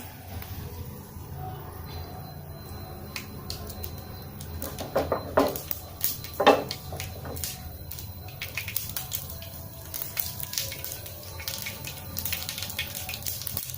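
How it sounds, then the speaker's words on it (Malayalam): Mustard seeds fry and pop in hot oil for a ladies finger pachadi, a steady close sizzle broken by scattered sharp crackles and spits. "കടുക് നന്നായി ഫ്രൈ ആയി വരട്ടെ."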